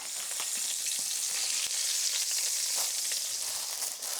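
A hamburger patty frying on a stove, with a continuous bright sizzle and scattered crackling pops, heard close and steady with no voices.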